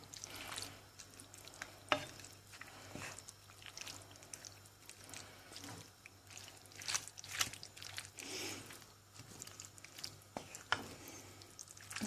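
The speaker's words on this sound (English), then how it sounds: "And then I'll mix it around properly when I've got both hands." Minced meat and passata are mixed in a frying pan for a spaghetti bolognese, giving soft, wet squelching stirs and occasional spoon taps against the pan, with a faint sizzle underneath and no talking.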